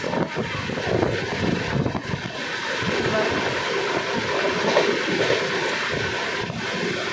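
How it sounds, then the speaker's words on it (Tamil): A train rolls steadily past at close range through countryside lined with eucalyptus trees, a continuous rumbling clatter that holds at an even loudness for the whole stretch, with no voices over it. "ட்ரெயின் மறைச்சிருச்சு"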